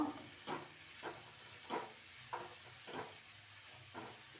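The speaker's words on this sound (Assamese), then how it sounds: "এতিয়া এনেকৈ পুৰটো ৰেডি কৰিবৰ কাৰণে নাৰিকল আৰু মিঠৈখিনি এনেকৈ লৰাই থাকিব লাগিব" Grated coconut and jaggery being stirred in a pan for pitha filling, a soft hiss with faint sizzle and a rhythmic scrape of the spoon sweeping about every half second, quiet and alone.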